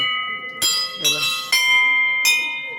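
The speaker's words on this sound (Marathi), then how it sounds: "हे बघा इथं आता घंटा वाजत" Four resonant strikes of a large bell at Khandoba temple, Mulgaon near Badlapur, each clang ringing out and sustaining before the next, loud and close.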